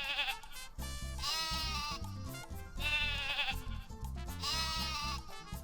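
Sheep in Croc: Legend of the Gobbos bleat in three loud, wavering calls spaced evenly apart over a rhythmic game music backing, with no talking.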